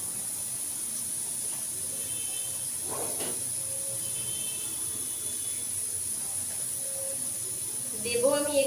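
Hot mustard oil hisses steadily in a pan, a faint, continuous sizzle under a constant high whine, with a few soft clinks and a louder clatter near the end; a voice speaks over it.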